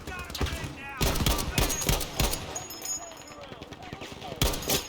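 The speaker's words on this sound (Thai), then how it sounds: "ไอตัวนี้ก็ยิงกับผมไม่หยุดเลย" Gunfire in the video game Battlefield V, sharp shots in rapid bursts and a fusillade that comes and goes in irregular clusters, loud and close, while a voice talks over the shooting.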